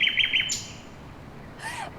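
A nightingale sings with a rapid, bright trill of repeated notes, then a pause and a short rising whistle, fairly close over faint low background noise.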